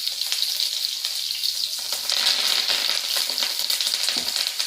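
Mustard seeds, cumin, cut chili, garlic and curry leaves sizzle in hot oil in a home kitchen, a steady bright crackle and spatter that swells midway, with no talking.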